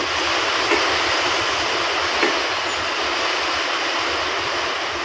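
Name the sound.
rain drumming on a roof sheet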